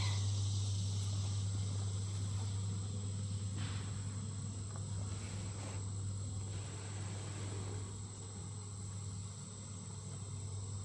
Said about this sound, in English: you can see there's a lot of bees here